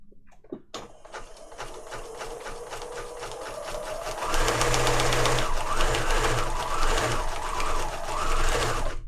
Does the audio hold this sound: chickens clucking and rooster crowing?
no